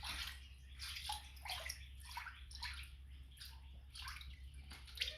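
Water sloshing and splashing in a hydrographic dip tank as excess film is pushed aside, a series of close, repeated washing swishes over a steady low hum, with no talking.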